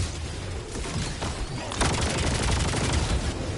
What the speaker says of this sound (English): Oh, the mortars are lighting that thing up.